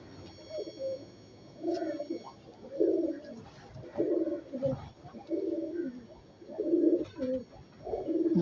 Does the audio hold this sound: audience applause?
no